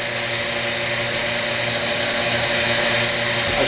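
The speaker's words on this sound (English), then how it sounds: "This pump is so efficient in terms of CFM volume that with this valve completely open" Vacuum pump for a woodturning vacuum chuck running steadily with its valve fully open, a loud continuous mechanical drone with a high hiss on top, briefly dipping in the middle before resuming.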